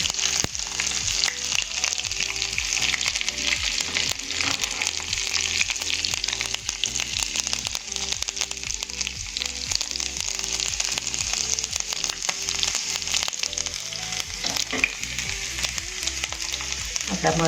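Tempering of chopped green chillies and mustard seeds in hot oil, a loud, dense, steady sizzle with faint crackles and low kitchen hum throughout, close up and uninterrupted.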